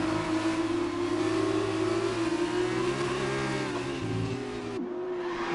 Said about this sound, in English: Through the chicane they go.